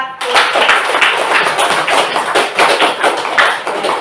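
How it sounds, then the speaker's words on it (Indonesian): A school class claps together in a classroom, a dense, steady patter of many hands lasting a few seconds, loud and close, with no voices over it. "Untuk hari ini Ibu beri aplaus 100"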